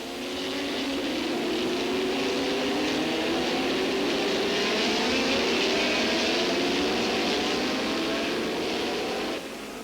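Vintage racing cars, including a 5.7-litre dry-sump McLaren, pass at the 1990 Grand Prix de l'Age d'Or, a continuous loud engine roar with rising and shifting pitch that holds for several seconds before cutting off.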